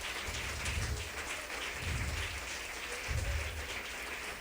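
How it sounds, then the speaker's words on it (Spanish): A church congregation applauds the Lord, a faint, steady wash of clapping heard from a distance, with a few low thumps underneath. "Dele un aplauso al Señor Jesucristo."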